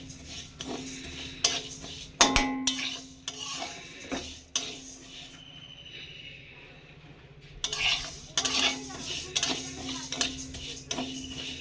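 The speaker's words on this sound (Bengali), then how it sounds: "প্রথমে মুগ ডালটা একটু ভেজে নেব।" Mung dal dry-roasting in a pan, a utensil stirring and scraping through the lentils with irregular metallic clinks and a faint sizzle, close and moderately loud, with no talking.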